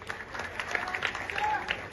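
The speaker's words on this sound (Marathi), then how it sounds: "टाळ्या वाजवा सर्वांनी" A crowd at a Maharashtra Kesari kusti wrestling match claps in a steady patter of applause, while a voice talks over it.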